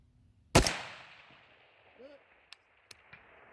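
A single loud, booming gunshot from an 18-inch 6.5 Grendel rifle at an outdoor range, with a long rolling echo, followed by faint distant pops and a brief murmur.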